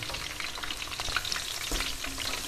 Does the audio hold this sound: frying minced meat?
yes